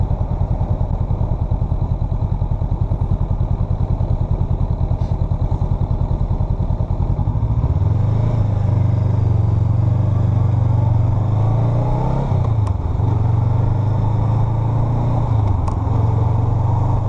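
A 2021 Honda Rebel 500 motorcycle runs steadily up close, its engine note dropping and shifting pitch partway through as the rider downshifts, with a loud continuous rumble and brief clunks around the gear changes.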